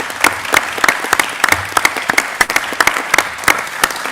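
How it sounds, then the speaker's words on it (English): A panel audience in the Senedd applauds with sparse, individually distinct claps spread across the room at moderate distance, steady for a few seconds with no talking. "definitely a round of applause to the panel"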